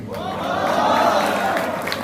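Audience at a Hindi poetry recital applauding and cheering, a dense, steady crowd roar of clapping mixed with voices that swells slightly in the middle and holds loud throughout.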